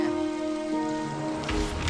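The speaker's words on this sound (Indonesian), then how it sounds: "Ini hanya hujan biasa seperti hujan-hujan sebelumnya." Steady rain falls in a soft, constant hiss across the whole short stretch, fairly quiet and unbroken, with a brief brighter patch near the end.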